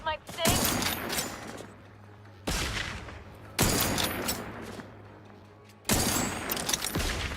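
Gunfire in The Outer Worlds: four loud, close weapon blasts spaced a second or two apart, each a sharp crack with a trailing rattle and decay over a low hum, with a voice speaking between shots.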